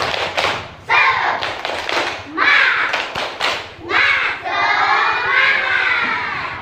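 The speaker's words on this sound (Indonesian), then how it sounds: "marilah bersama-sama kita tepuk semangat dulu" A class of children performs the 'tepuk semangat' clapping chant, loud rhythmic claps and taps mixed with shouted group chanting in a classroom, ending in a sustained collective shout.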